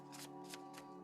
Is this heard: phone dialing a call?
no